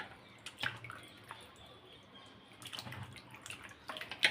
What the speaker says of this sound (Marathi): 4 ते 5 पाण्यामध्ये मी स्वच्छ धुवून घेतलेला आहे